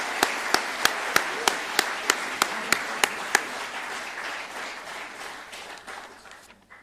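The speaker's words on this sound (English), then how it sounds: "Give him a round of applause." Applause rises from the audience at a school sports awards evening. One nearby person claps in crisp, evenly spaced strokes over a broad wash of crowd clapping that gradually fades away.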